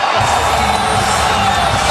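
A packed wrestling arena crowd cheers loudly and continuously after a scoring move, a dense roar of voices and shouts with no break.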